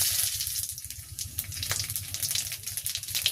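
Whole radhuni seeds crackle and sizzle in hot oil in a wok in a village kitchen, a busy, close frying hiss with a watery, bubbling texture throughout.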